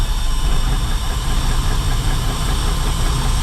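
A farm engine idles steadily while warming up with the throttle pulled out a little, a continuous close, loud low rumble with faint knocking and vibration throughout and no talk.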